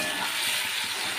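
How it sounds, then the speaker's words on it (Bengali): Prawns coated in salt and turmeric fry in hot mustard oil, giving a steady, dense, close sizzle and crackle that holds evenly throughout with no voices. "এবারে চিংড়ি মাছটা ভেজে নেব।"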